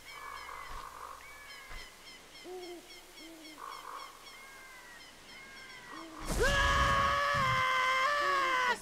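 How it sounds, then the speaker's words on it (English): Link from the video game Zelda Ocarina of Time lets out a loud, sustained scream near the end, after several seconds of game sound effects. "That scream was a bit unnecessary, Link."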